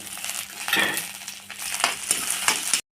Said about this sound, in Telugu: ఆయిల్ పోసుకొని పచ్చిమిర్చి వేసుకోవాలి